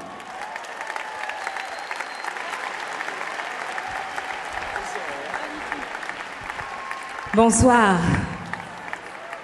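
Concert audience at the Zénith de Paris applauds steadily for a symphonic show, a dense broad clapping wash with a few cheers, then a voice briefly greets the crowd near the end.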